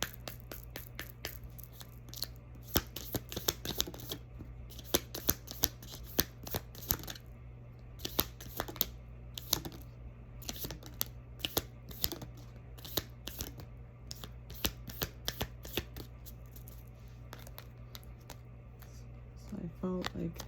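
Cards are shuffled and handled in a quiet room during a Yuletide solstice ritual, giving soft, scattered flicks and riffles at close range over a low steady hum, with a voice speaking now and then.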